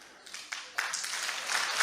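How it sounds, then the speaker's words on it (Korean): Scattered clapping from an audience at a patriotic lecture builds into fuller applause, starting with a few isolated claps and swelling toward the end. "이걸 박수 치구나."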